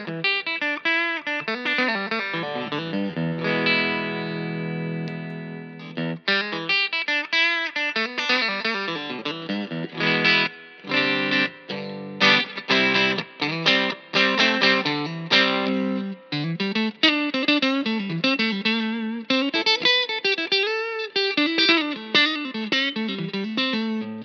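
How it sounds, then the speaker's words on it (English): A Macmull S-Classic electric guitar runs straight into a Hampstead Artist 60 amp, playing a continuous, steady stream of chords and single notes for about twenty-four seconds, loud and close with no talking. "So the Macmull S-Classic straight into the amp sounds like this."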